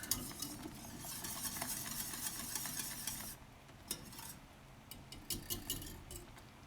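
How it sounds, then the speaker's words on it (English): Rice pudding being whisked in a pan: a continuous quick rhythmic scraping and sloshing for a few seconds, then softer with scattered metallic clinks of the whisk against the pan, close and fairly quiet. "I'll whisk it a little bit in between"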